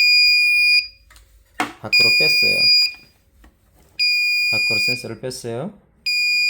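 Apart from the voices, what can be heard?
alarm buzzer of a cold storage freezer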